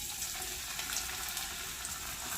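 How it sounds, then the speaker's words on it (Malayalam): Onion fritter batter, dropped spoon by spoon into hot oil, fries with a steady, faint crackling sizzle that stays even throughout, without any voices. "ഈ തിളച്ച എണ്ണയിലേക്ക് നമ്മൾ കുഴച്ച് വെച്ചിരിക്കുന്ന സവാള കൂട്ട് കുറേശ്ശെ ഇടുന്നതായിരിക്കും."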